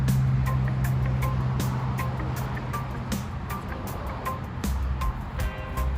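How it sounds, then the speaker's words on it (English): Steady, loud road traffic rumbles close by, with vehicles droning past continuously and faint beeping mixed into the noise. "I hope you can hear good because there's a whole lot of traffic."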